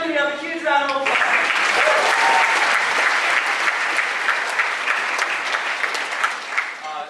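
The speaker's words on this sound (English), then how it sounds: "All right, well, for Fiona, can we have a huge round of applause?" An audience at an orchestra pops concert breaks into sustained, dense applause that fills the hall for several seconds, following a brief spoken introduction at the start.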